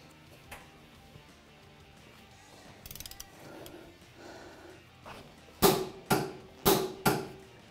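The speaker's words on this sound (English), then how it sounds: "install the axle nut using some red thread locker and torque it to 250 foot-pounds" Ratchet wrench torquing the CV axle nut on a Textron Wildcat XX, a few scattered clicks early, then four loud, close, evenly spaced ratcheting pulls near the end.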